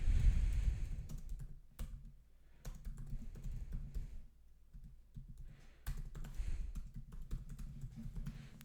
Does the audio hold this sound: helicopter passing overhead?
no